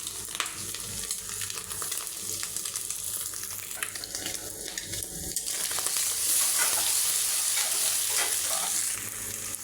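Chopped tomato hits a pan of frying onion and scrambled eggs and is stirred in, giving a continuous close sizzle with scraping stirs that grows slightly louder toward the end, with no voices.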